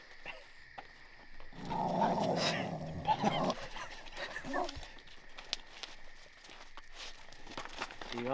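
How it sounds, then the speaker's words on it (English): Tracking dogs on an opening-week deer hunt whimper and bark in a loud, close burst lasting about two seconds, followed by quieter movement and footsteps outdoors. "We got two other dogs right here ready, just chomping at the bit to go track some."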